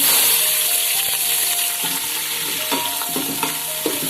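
Whole spices, cardamom, cloves, bay leaves and cashews, with onions frying in hot oil for chicken biryani, a steady close sizzle with scattered stirring clinks and scrapes throughout.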